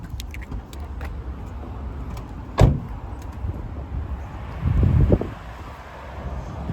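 A Kia Carnival being switched off and exited: a sharp close thump like a door, then a shuffling rustle of movement, with faint wind and car ambience throughout and no talking.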